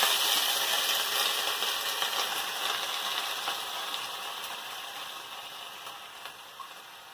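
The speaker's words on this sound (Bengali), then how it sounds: "অল্প সরষের তেল দিয়ে তেলটা গরম হয়ে গেছে, এই তেলের মধ্যে পালং শাকটা দিয়ে আগে নেড়ে নেব।" Spinach sizzles steadily as it is stirred in hot mustard oil, a dense, even hiss that fades slightly toward the end with no voices.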